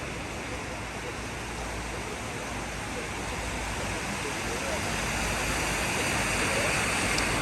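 Floodwater rushes along a road after heavy rainfall in Dubai. It makes a loud, dense, unbroken roar close by that holds steady throughout.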